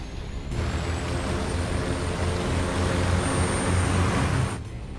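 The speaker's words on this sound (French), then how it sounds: "Et nous avons un autre décollage impeccable." An airplane takes off at full throttle. A loud, sustained broadband engine roar swells in, holds for several seconds and then cuts away sharply.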